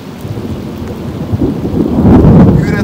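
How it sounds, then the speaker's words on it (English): Thunder rumbles over steady rain during an outdoor fishing trip, a low rolling boom that swells louder toward the end beneath the continuous hiss of rainfall. "You hear that thunder?"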